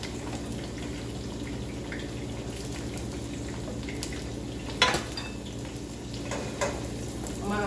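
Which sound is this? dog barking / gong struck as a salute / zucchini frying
zucchini frying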